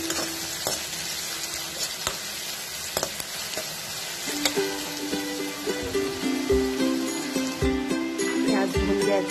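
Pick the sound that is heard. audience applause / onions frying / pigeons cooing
onions frying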